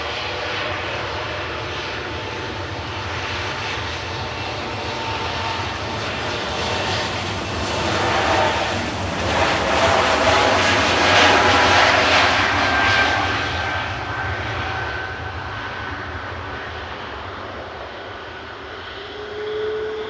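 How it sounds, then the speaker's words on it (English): An Air France Airbus A380 departs Manchester Airport, its broad jet roar swelling to a peak midway and then slowly fading into the distance, steady and alone without any talk. "Air France A380 going back to Paris Charles de Gaulle with flight 1269."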